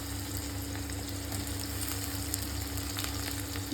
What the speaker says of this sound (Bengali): তো কড়াই গরম হয়ে গেছে, দিয়ে দিয়েছি তেল, 5 গ্রাম শুকনো লঙ্কা, তেজপাতা আর পেঁয়াজ। এবার দিয়ে দেবো টমেটোটা